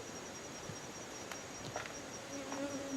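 A steady, faint honey bee buzz hums throughout during late-summer feeding with a pollen substitute powder, with occasional individual bees droning closer and then passing off.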